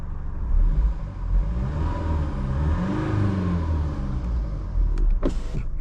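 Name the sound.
Range Rover Velar 2-litre 4-cylinder diesel engine starting and idling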